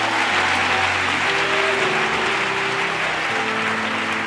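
A church congregation at a French-language Monday worship service claps and cheers in praise of Jesus, a steady, dense wash of applause that holds throughout, with sustained tones of background music beneath.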